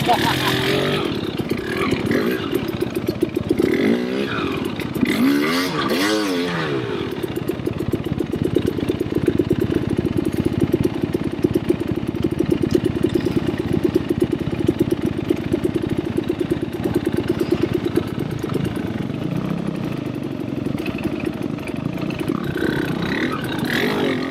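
A four-stroke dirt bike engine runs steadily at an ATV park, a continuous close mid-pitched drone with little change in throttle from start to finish.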